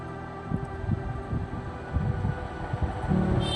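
A metro train pulls into a station with a steady low rumble and wind-like roar, swelling slightly toward the end, with no talking.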